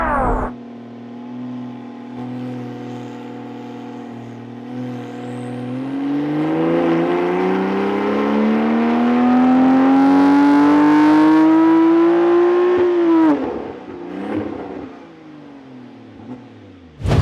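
Porsche 992 fitted with an ES800 kit and a new exhaust revs on a dyno, a steady idle drone climbing into a long, loud sweeping rev that peaks around twelve seconds, then drops off with a brief burble and a final blip.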